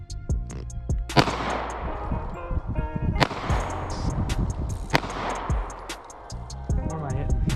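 Gunshots ring out at a shooting range, several loud, sharp cracks spaced unevenly a second or more apart, each followed by a ringing tail, with people talking between the shots.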